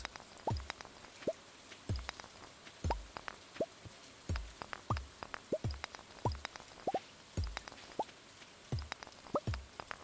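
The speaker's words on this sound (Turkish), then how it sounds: "İlkbahar ayında yağmur yağması iyi oluyor" Rain falls in the video game Stardew Valley during the spring season. Soft, evenly spaced droplet plops and drips sound over a low hiss, with no talk.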